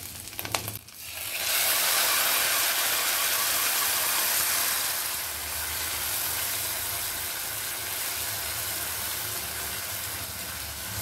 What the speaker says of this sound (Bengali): মশলার পেস্টটা দিয়ে দিলাম আর ভালো করে নাড়িয়ে দিচ্ছি